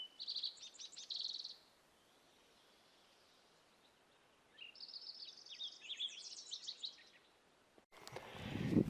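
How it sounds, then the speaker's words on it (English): Birds sing on a calm mountain morning at Emigration Pass, two bright bursts of chirping trills separated by a quiet pause, faint and somewhat distant, followed by a brief rustling close by. "nice, peaceful, calm morning up here. Birds singing happily."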